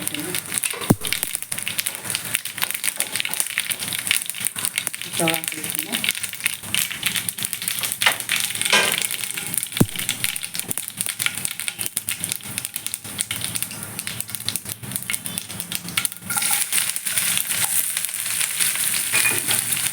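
Mustard seeds, cumin and onion fry in hot oil for a sorrel leaf chutney, a dense, continuous crackle and spatter that stays loud throughout.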